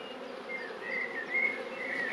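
Honeybees swarm and buzz around an opened hive, disturbed and agitated, a steady close droning hum with a few louder passes near the listener.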